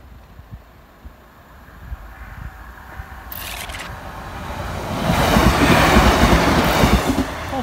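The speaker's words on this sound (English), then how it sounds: "Speaking of train, this one's already bloody here" Train passing at Fiskerton level crossing, starting as a faint distant rumble and building to a loud, close roar of wheels and carriages rushing by with clattering rail noise, no voices.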